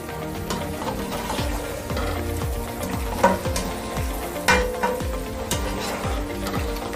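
Liver mixture is stirred in a sizzling pan, with repeated rhythmic scraping strokes and occasional clacks of a spoon over a constant frying hiss, close and unaccompanied by speech.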